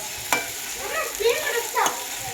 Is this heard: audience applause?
no